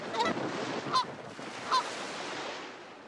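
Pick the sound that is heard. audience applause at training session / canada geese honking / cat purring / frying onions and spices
canada geese honking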